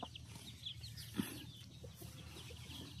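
Chickens kept on a farm, including roosters about eight to nine months old, cluck faintly in the background with scattered soft calls and one brief louder squawk.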